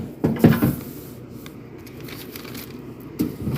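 A refrigerator vegetable drawer slides open or shut with a couple of brief plastic knocks and scrapes close by, the loudest near the start and another at the end, over low room noise.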